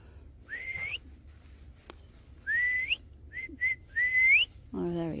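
A person whistles outdoors near a farm fence line to call a dog: a string of rising, clear whistle notes, some long and some short and clipped, with a brief voice at the end.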